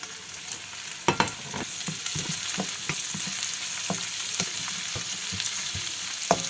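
Onion and curry leaves frying for egg noodles in a pan, a steady close sizzle broken by repeated scraping and stirring knocks of a spatula.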